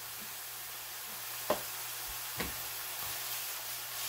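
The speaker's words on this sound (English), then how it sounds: "now I'm going to add a good heaping teaspoon of minced garlic" Minced garlic sizzles in a pan with cooked, drained hamburger, giving a soft, steady frying hiss with a few light knocks of stirring, quiet and close.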